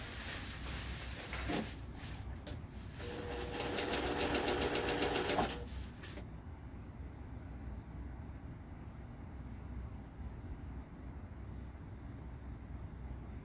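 A sewing machine stitches pieces of a single-wall tent, running in a fast, steady whir for several seconds before stopping, leaving a quiet room.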